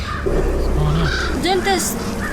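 Crows caw harshly in a snowy outdoor scene from the Game of Thrones episode "Oathkeeper", a few rough calls mixed in with voices talking.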